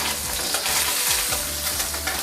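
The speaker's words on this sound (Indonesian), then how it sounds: "Lalu panaskan sedikit minyak lagi dan goreng tahu telur." Tofu and egg frying in hot oil over medium heat, a dense continuous sizzle with a few stirring scrapes and clinks close by, no speech.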